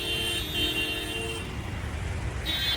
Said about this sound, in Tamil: டிராஃபிக் குறைஞ்ச பாடா இல்லவே இல்லை மக்களே.